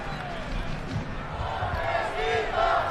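A stadium crowd at a soccer match between El Paso Locomotive FC and Lexington SC chants at an injured referee, a rhythmic massed shout of voices rising and falling in the distance.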